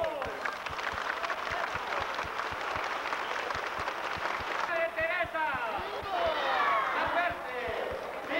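An audience at a religious gathering breaks into applause, a steady patter of clapping heard under ongoing speech and crowd voices, fading as talk continues.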